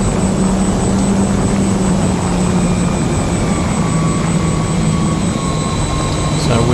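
Small aircraft engine drone of an RC plane with an FPV drone following behind, a steady loud buzzing propeller whine that holds throughout with slight shifts in pitch.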